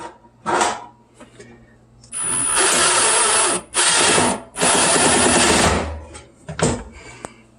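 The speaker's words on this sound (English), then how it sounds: "you can start screwing on wires to help hold it in place" Power screwdriver driving screws to fasten wires inside a Samsung electric range, three loud sustained whirring bursts with brief pauses between, preceded and followed by short handling clicks.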